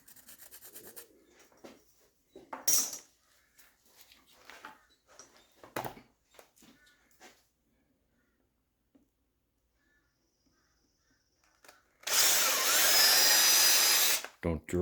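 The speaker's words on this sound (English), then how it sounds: "Don't drill too deep, you guys." Drill boring into an Alaskan birch burl bowl, a short harsh burst early then a longer loud grinding run near the end, with scattered quiet handling noises between.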